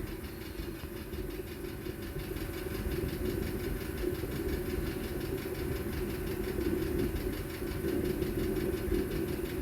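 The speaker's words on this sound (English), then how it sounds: "Sorry about the noise in the background. Heater's going" A steady, low mechanical rumble with a rhythmic knocking pulse drones continuously in the background, like a heater running, with no talking.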